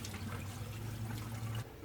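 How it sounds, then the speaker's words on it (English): Water pours into an old truck's radiator from close by, a steady rushing gurgle that runs for most of the moment and then drops off abruptly. "Probably help if I get a little bit of water in the radiator."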